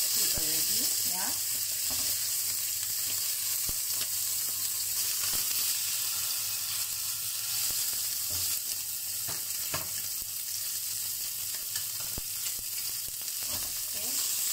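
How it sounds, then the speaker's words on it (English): A seabass fillet frying skin side down in oil in a pan, a loud, continuous close sizzle broken by occasional sharp pops and spatters. "So make sure when you pan fry your fish is dry"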